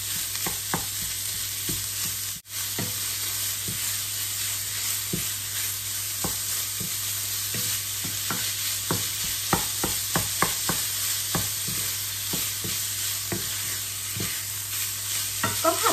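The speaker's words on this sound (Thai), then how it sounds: "ก็ผัดไปเรื่อยๆจนกว่าหมูสับของเราจะสุก" Minced pork and shallots stir-fried in a pan for a sago dumpling filling, with a steady close sizzle throughout and frequent sharp scraping clicks of the spatula that quicken toward the end.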